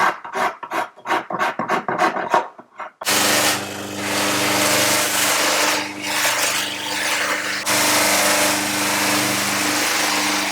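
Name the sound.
hand filing plastic spectacle frame crest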